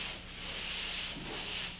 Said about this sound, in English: I like to sand out any trowel marks or ridges or unfeathered edges that I left while second coating